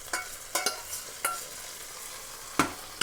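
Food is sautéed in ghee for black rice pongal, a soft sizzle underneath with several sharp scraping stirs of a spoon against the pan at irregular intervals, close and fairly quiet.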